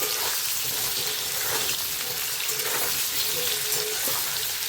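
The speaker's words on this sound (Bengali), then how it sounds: "আর এদিকে আলু আর সয়াবিনটা ততক্ষণে ভেজে নিই" Potatoes and soybean chunks frying in a pan give a steady, dense sizzle with faint crackles throughout, close and even in level, with no talking.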